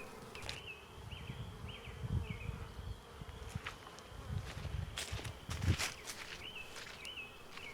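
Honeybees buzz around the entrance of a backyard hive in spring, foragers returning with pollen; a steady low hum with repeated close buzzing passes and a few soft knocks, no talking.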